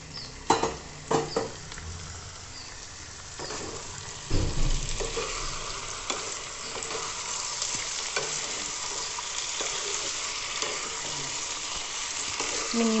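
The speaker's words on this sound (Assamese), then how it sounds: "এই 2 মিনিট আলুখিনি ফ্ৰাই কৰাৰ পিছত আমি মেৰিনেট কৰা মাংসখিনি দি দিছোঁ" Marinated chicken added to potatoes frying in a pan for a sesame seed chicken dish: a steady close sizzle with stirring scrapes and a sharper burst of hissing as the meat goes in.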